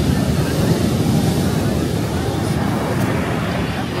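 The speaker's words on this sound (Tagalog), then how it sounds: "Diyos ko, ang lalaki ng waves." Large ocean waves surge continuously on a cold beach, making a loud, steady roar with heavy wind buffeting the microphone throughout.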